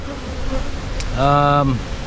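Honeybees at a small nuc hive weakened by European foulbrood, with a brief close buzzing drone rising for about half a second over quiet outdoor background.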